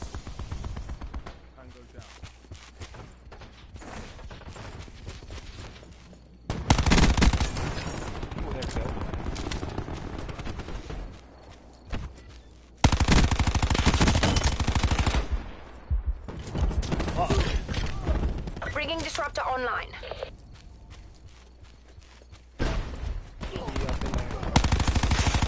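Rapid automatic gunfire from the shooter game Black Ops 4 comes in loud, dense bursts with short pauses between them, while players talk over the action.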